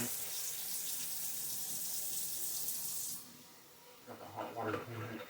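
Water pours from a kitchen tap over hands being washed, a steady close hiss that cuts off about three seconds in, followed by quieter handling sounds and a brief voice.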